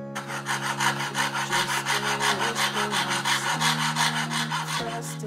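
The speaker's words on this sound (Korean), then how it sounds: "수작업으로 톱질을 하다니" A hand saw cuts through wood for a small mortar pestle in steady back-and-forth strokes, close and fairly loud, with sustained tones humming underneath.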